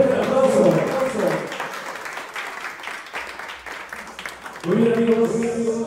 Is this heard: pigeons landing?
no